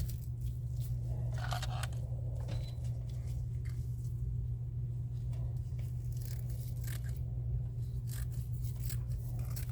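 Scissors snip and tear through Amazon packing paper from a package envelope, with scattered crisp cutting and crinkling sounds over a steady low hum, fairly quiet and close.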